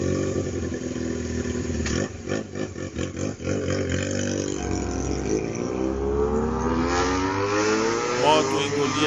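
A Honda CB 450 motorcycle races at full throttle, its engine note rising and falling in loud, steady revving with a clattering burst partway through, swelling into a climbing whine as it speeds away.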